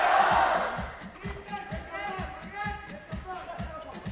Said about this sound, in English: You can hear the crowd roar.